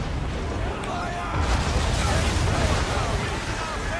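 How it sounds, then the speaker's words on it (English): Cannon fire from Assassin's Creed III game audio: dense, rumbling booms that swell and roll on after about 1.4 seconds, loud and continuous, with a voice talking over the battle noise. "How quick are these guys on the bloody cannons on this?"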